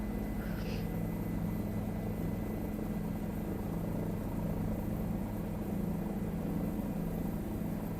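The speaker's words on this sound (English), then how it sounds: "I won't be able to hear over the noise of the rotor blades" Helicopter rotor blades in Microsoft Flight Simulator, a constant low thudding drone with engine whine, heard from inside the cabin at steady loudness for the whole stretch with no speech.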